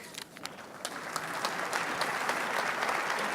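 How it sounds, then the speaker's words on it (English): Audience applause at a governor's economic development funding announcement, a dense clapping crowd building quickly and holding steady, moderately near. "Let's give a big round of applause to Maria for being the master of ceremonies"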